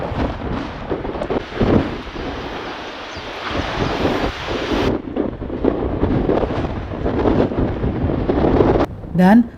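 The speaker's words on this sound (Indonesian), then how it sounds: "Angin ini bertambah kencang seiring semakin tingginya kami di punggungan." Strong wind on a high mountain ridge along the Tour du Mont Blanc hiking route roars steadily and close, gusting in continuous broadband buffets with no clear pauses.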